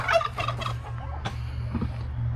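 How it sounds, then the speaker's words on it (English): Broody turkey hen on a homestead farm gobbling in a rapid rattling burst, then a couple of shorter calls, moderately close against a low steady hum, no speech. "Got a broody turkey hen over there."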